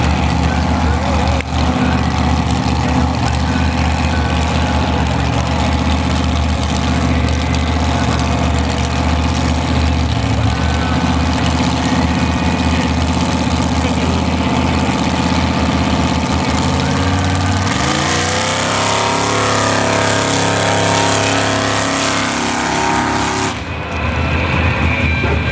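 A mud bog truck with a fresh motor roars steadily at a mudbog event in Quesnel, B.C., its engine note shifting and falling late in the run, with an announcer talking over the noise.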